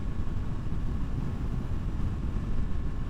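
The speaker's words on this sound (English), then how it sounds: "It's windy." Steady roaring wind noise buffeting a rider on a KTM RC390 motorcycle at about 85 km/h, continuous and loud with a low rumble throughout.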